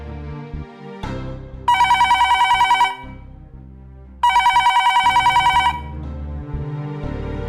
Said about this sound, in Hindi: सर शायद कट हो गया, मैं रिडायल करती हूँ।